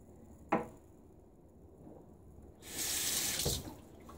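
Water from a bathroom tap running as a razor is rinsed during a wet shave, a faint click then a brief rushing splash of flowing water, nearby and quiet, with no voices.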